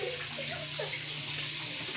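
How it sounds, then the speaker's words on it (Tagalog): Water runs steadily into a cooking pot over chicken in a home kitchen, a faint, continuous pouring sound at low level. "Lagyan na po natin ng tubig."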